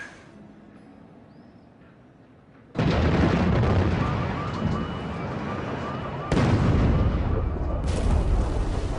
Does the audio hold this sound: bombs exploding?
yes